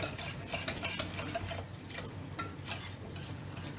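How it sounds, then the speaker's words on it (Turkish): Gluten-free milk pudding being stirred in a pot with a spoon: soft, irregular scraping and light taps against the pot, fairly quiet and close, with no talking. "Güzelce karıştırmaya devam ediyoruz."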